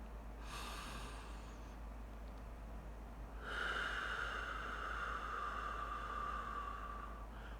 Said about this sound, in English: Really feel those lungs from the diaphragm pulling in all that positive energy